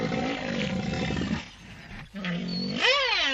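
A defensive female rhinoceros, a cow with sub-adults, growls in a loud, rough rumbling roar that pauses briefly, then rises again into a harsh, wavering bellow, close by.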